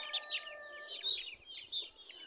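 Several black-fleshed chickens cluck and chatter close by, short repeated calls overlapping in a busy, uneven rhythm, with no talking.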